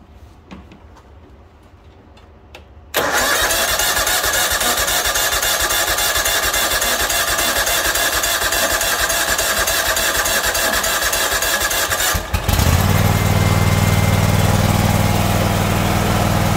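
A John Deere X324 lawn tractor engine cranks and catches after a quiet start, then runs loud and steady on full choke, with a rough change in tone partway through, close and alone without talk.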